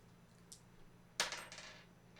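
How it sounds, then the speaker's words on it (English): Dice clatter onto a hard surface, a brief faint tap followed by a sharper bouncing rattle that settles, close and quiet, alone. "I have some dice right here."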